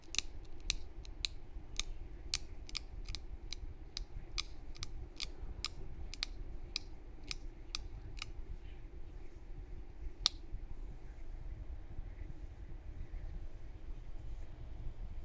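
Green glass being flintknapped to trim a side-notch edge, a rapid run of sharp, crisp ticks and snips close by during the first half, then one last click and near quiet with a low background hum.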